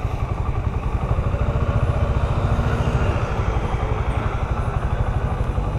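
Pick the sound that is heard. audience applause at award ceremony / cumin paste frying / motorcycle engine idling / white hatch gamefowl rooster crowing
motorcycle engine idling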